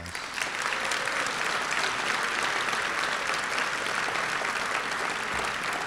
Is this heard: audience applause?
yes